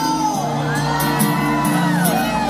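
A crowd at a regional Mexican music event lets out a loud, sustained cheer, with drawn-out whooping and shouting voices that rise and fall together for several seconds.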